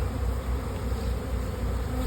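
Dense swarm of honey bees buzzing at a beehive being readied for splitting into nucs, a steady close hum with no pauses.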